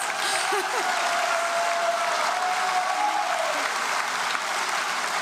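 A graduation convocation audience breaks into loud, steady applause, a thick wash of many hands clapping with faint crowd murmur and a brief whistle-like tone beneath.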